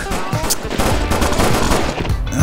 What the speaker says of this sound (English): Stop shooting your gun.